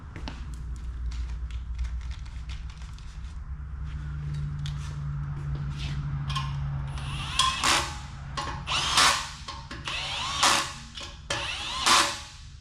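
An impact driver works on an oversized bolt, starting with a steady motor whir, then firing several loud bursts of rapid hammering spaced a second or two apart.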